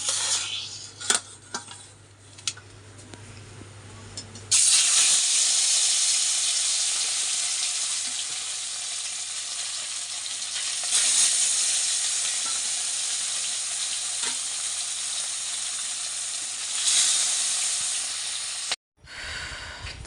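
Fish frying in a pan for a home-cooked meal: after quiet clinks and handling, a loud, steady hiss of hot oil starts abruptly and sizzles continuously for about fifteen seconds, then cuts off sharply, with no talking.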